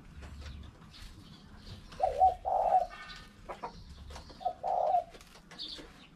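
Pigeons coo in soft, throaty bursts, several rolling calls arriving in two or three clusters over quiet background rustle, close by in a cage, with no talking.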